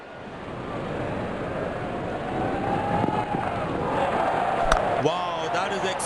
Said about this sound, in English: Crowd is enjoying every bit of this action.